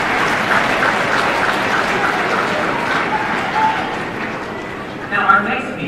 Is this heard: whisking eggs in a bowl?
no